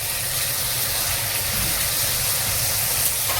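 Water splashed into a hot pan of paneer and mixed vegetables sets off a loud, steady hiss that holds at full strength throughout, with no speech over it.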